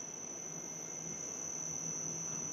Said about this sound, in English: It's a nice three-phase motor, but they should have tested it and made it whine in the key of C